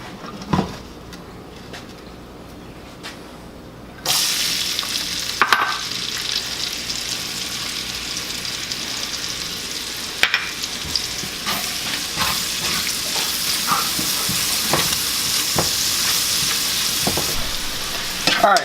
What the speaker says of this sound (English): So all we're gonna do is quickly saute the onions and the jalapenos that I've chopped up.